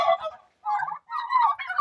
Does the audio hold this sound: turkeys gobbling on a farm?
yes